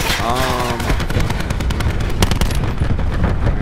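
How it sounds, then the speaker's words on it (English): Cluster grenade in Fallout 76 going off as a rapid string of sharp, loud bangs like a burst of gunfire, following a brief voice at the start. "Throwing cluster grenade."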